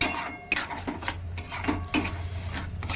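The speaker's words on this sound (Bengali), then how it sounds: "ধনে জিরে গুঁড়ো দিয়ে দিলাম আলু সবটা একটু দিয়ে নাড়াচাড়া করে নিতে হবে" A spoon scrapes and clinks against a pan while potatoes are stirred with coriander and cumin powder, a steady run of close metallic knocks over a low background hum, with no talk.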